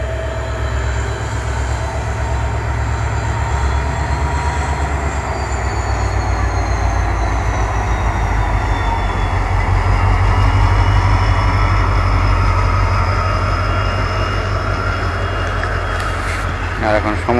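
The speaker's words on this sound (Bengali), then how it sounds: "আর এই হলো new Bongaigaon Guwahati passenger train" The New Bongaigaon–Guwahati passenger train rolls past beside fields at dusk, a loud sustained rumble of wheels and carriages with rising and falling whines and a clatter near the end.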